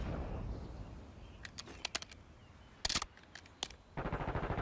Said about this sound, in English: this next one is a shotgun